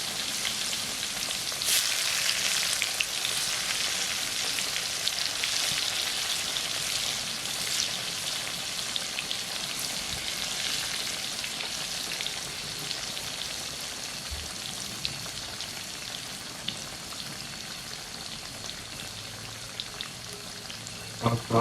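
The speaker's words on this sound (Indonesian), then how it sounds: "Goreng tempe." Tempeh sizzling and crackling steadily in hot frying oil, a dense continuous hiss with scattered pops, close and fairly loud throughout with no talk.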